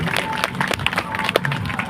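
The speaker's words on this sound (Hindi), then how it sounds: "जोरदार तालियां हो जाए परीक्षित जी के लिए" Audience at a village Shrimad Bhagavat Katha religious discourse applauding for Parikshit ji, a dense patter of many hands clapping, moderately near, with voices mixed in.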